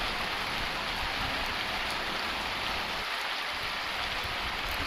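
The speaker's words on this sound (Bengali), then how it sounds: "গ্রামের বৃষ্টিতে ঝমঝমঝম সাউন্ডটা আলাদা একটা মজা" Heavy rain pours down steadily in a village, a dense even hiss of drops drumming on surfaces all around, with no voices.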